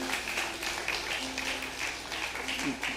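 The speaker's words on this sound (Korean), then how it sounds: "여러분들 따뜻한 박수로 환영해 주시죠" A church congregation at a Sunday service applauds to welcome a new member, with a soft, steady wash of clapping lasting the whole moment and no one speaking over it.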